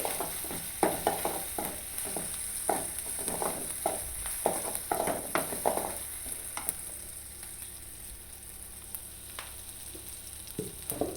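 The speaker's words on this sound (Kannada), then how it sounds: "ಇವೆಲ್ಲ ಚೆನ್ನಾಗಿ ಎಣ್ಣೆಯಲ್ಲಿ ಹುರಿತಾ ಇರಬೇಕು" Chili and coriander powder fry in hot oil with a soft, steady sizzle while a utensil scrapes and stirs the pan in uneven strokes, busier at first then quieter.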